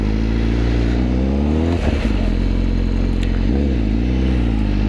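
Honda CBR1000RR-R Fireblade motorcycle pulling away through a quiet neighborhood, its engine loud and close, revving up through the gears with pitch rising and dipping between shifts, no talking.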